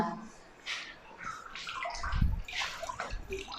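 Water runs and splashes in a bathroom during washing after toilet use, a steady close trickle with gurgling surges, with a voice speaking over it.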